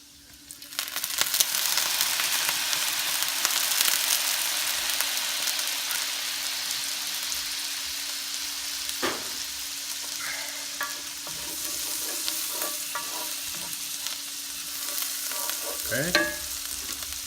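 Fried tofu sizzles steadily in a pan after rice wine is added, with a soft continuous fry and occasional scraping stir strokes, fairly quiet and without talk.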